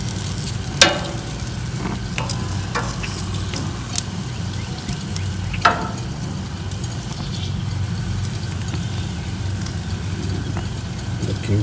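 Corn cobs sizzle steadily on an outdoor grill, a constant loud hiss with a low hum underneath and a few sharp clicks as they are turned.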